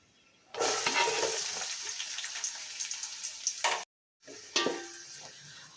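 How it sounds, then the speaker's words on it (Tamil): Sliced onions sauté in a pan over a medium flame for Ambur chicken biryani, a loud hissing sizzle that starts abruptly and carries stirring scrapes, cuts out briefly near the end, then resumes with clatter. "அடுப்பை மீடியம் ஃப்ளேமில் வச்சுட்டு வெங்காயத்தை அஞ்சு நிமிஷம் வதக்கலாம்"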